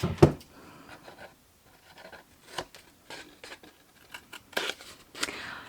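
Paper milk carton template cut with scissors, close snips and rustling paper in short irregular bursts with quiet gaps between, no voices.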